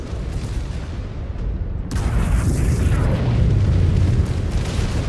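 An incoming missile strikes in Mechwarrior 5: Clans, bursting into a loud, broad explosive roar that swells suddenly partway through and rumbles on to the end.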